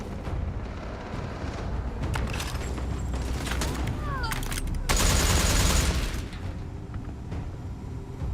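Gunfire in Starfield during a Crimson Fleet mission: a busy mix of shots, bursts and booms, with a dense louder volley in the middle, over continuous background sound.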